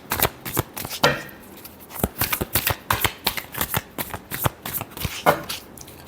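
Tarot cards being shuffled by hand, a close, crisp series of rapid riffling flicks and taps in uneven bursts, fairly soft, with no talking.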